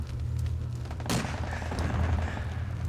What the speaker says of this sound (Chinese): 你怎么知道鬼子会向我开枪射击呢？